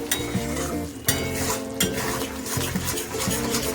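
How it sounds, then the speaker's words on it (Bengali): Paneer and capsicum stirred in a pan with the lid just lifted: a spoon scrapes and clinks against the metal in repeated strokes over a steady close sizzle of frying, with sharper knocks every second or so. "আমি ঢাকনা খুলে একটু নেড়ে দেব।"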